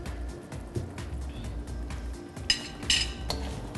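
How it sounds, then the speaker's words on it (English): A spoon stirs sugar into red curry in a cooking pot, giving a few light clinks and scrapes against the metal over a quiet, low kitchen background. "Mix it up nicely."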